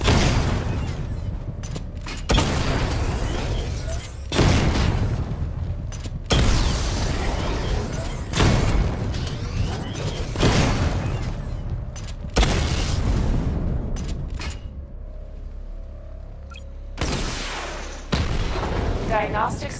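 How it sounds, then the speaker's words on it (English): Missile barrage firing in a Batman video game, a series of heavy booming blasts in regular bursts, loud and close, with short gaps between volleys and a synthetic voice speaking between them. "Missile barrage level 1 ready."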